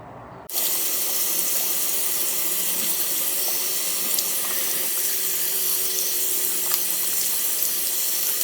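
Tap water runs steadily into a sink while a face pack is rinsed off, a constant close splashing flow that starts abruptly after a short silence and continues alone to the end.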